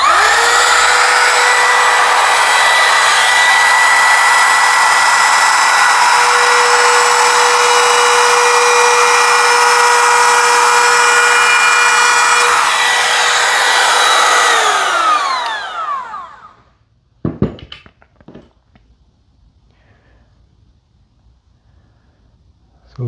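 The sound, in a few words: Makita XTR01Z cordless router routing a 1/8 inch roundover in wood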